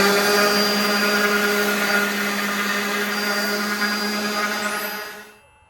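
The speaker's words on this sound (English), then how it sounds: "I sanded in there as well as I could get with the RO sander." A Milwaukee random orbital sander whirs steadily and loudly up close on a wooden shelf, a constant high buzzing drone that winds down and stops at the end.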